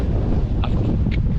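Gusty wind buffets the microphone at a tent campsite, a steady loud rumble with no voices.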